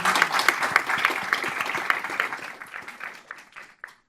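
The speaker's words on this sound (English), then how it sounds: "Let's give a big round of applause to the Swami." Audience applause at a talk with a swami in Princeton, New Jersey: dense clapping from a crowd that runs steadily, then thins toward the end with a few final scattered claps.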